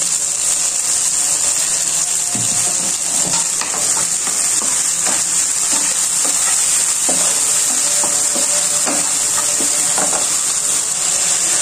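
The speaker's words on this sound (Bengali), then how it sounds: "চিংড়িটা একটু নেড়ে চেড়ে নিয়েছি" Shrimp frying with salt in a pan for a pointed gourd and prawn do-pyaza, loud steady sizzling with repeated scraping stirs of a spatula throughout.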